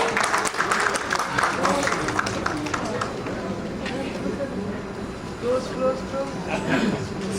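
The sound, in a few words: audience applause for Iqbal Khokhar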